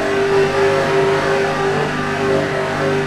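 Engines of NASCAR race cars in a Roblox racing game, including a Gen 6 Toyota and a Gen 4 car, drone steadily and loudly with a constant revving hum and no talk.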